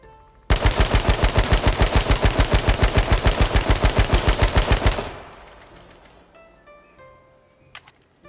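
Sustained automatic weapon spray from the H1Z1 video game, a loud rapid even string of about twenty-five shots lasting several seconds, then a cut-off and a fading tail with faint interface clicks.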